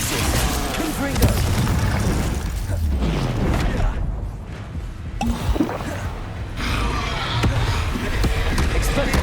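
Repeated Confringo blasting-spell explosions from Hogwarts Legacy, loud booming bursts that recur through the stretch with crackling debris, mixed with game effects and a talking voice over the top.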